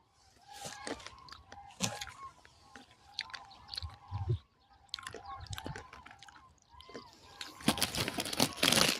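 Close, crunchy chewing and biting of peanuts, irregular crunches repeating over several seconds with a brief louder rustle near the end.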